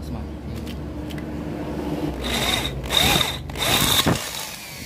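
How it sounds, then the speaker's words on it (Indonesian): A power drill with a large bit enlarges a hole in a Yamaha RX-King clutch part, whirring in several bursts and grinding as the bit bites in, with background noise and a voice speaking in between. "kita tinggal perbesar dengan mata bor yang besar"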